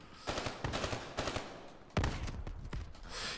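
Gunfire rings out in a Black Ops 3 match, with a series of separate loud blasts, one especially sharp and close, spread over a few seconds against a noisy game background. No one speaks.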